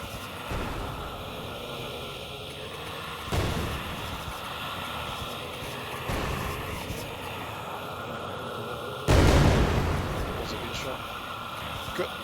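Booming grenade blasts and rifle shots from an indie war video game rumble through a sustained noisy battle background, with a sharp heavier blast near the end, while someone talks over them.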